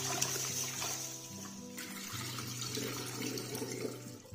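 Running tap water splashes steadily as medicinal herbs and a snow pear are rinsed and rubbed in a sink, a continuous near wash with a low hum beneath.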